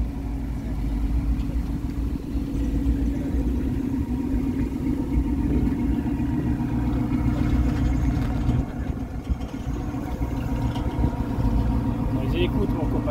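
A Dodge Challenger SRT with a V8 idles at a classic car show, its exhaust a steady deep burble recorded up close for the full stretch, with a voice speaking over it.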